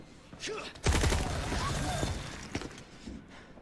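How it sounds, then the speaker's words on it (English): A single gunshot from the Resident Evil video game cracks out abruptly and loudly, followed by a noisy, rumbling tail and some clatter, with talk faintly underneath. "You're gonna hear a single gunshot in a second."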